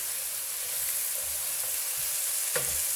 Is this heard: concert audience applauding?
no